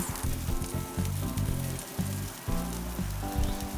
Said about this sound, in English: We're also gonna place scallions over indirect heat and let them grill a few minutes.